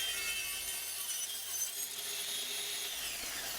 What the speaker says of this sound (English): I cut these by hand.